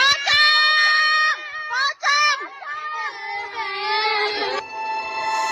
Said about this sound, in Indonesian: Terdengar suara jeritan seorang warga saat melihat sosok yang diduga merupakan pocong